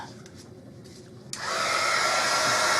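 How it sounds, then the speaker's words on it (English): Quiet handling noises, then a heat gun switches on with a sudden loud, steady blowing hiss that continues to the end, drying faux woodgrain paint. "Oh, do I want to plug my heat gun in?"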